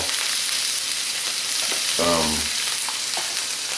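Green vegetables cook down in a pan with a steady close sizzle and hiss, broken briefly by a short clunk or tonal scrape partway through.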